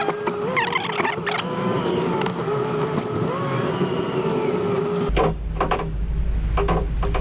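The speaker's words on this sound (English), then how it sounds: "That's the antenna, by the way. Sounds awful, doesn't it?" Motorised power antenna on a truck whirring and straining as it extends, a rough, insect-like mechanical buzz with changing pitch for about five seconds, then a shift to a deep rumble and wind noise outdoors.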